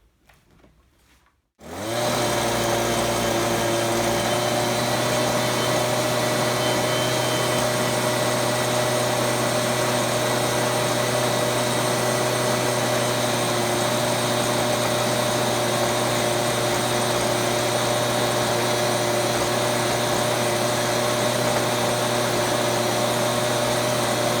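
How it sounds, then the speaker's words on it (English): A commercial-grade BG86 handheld leaf blower starts up after a brief quiet moment and then runs at a loud, steady, high-pitched engine whine and rush of air for over twenty seconds, with no voices. "It's a commercial grade handheld blower, and they say it puts out more air."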